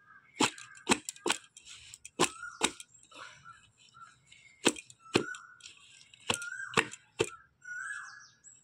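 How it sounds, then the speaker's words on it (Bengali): Layered paratha dough is beaten by hand, giving sharp, loud slapping thwacks, some quick and clustered and others spaced, close up, with quieter kitchen shuffling and faint clatter between them. "এই পেটাই পরোটাটা কিন্তু এবার ফিটাতে হবে"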